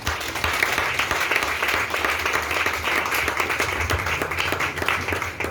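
A church congregation breaks into loud, sustained applause during a service, many hands clapping in a thick, even roar that holds steady throughout with no talking on top.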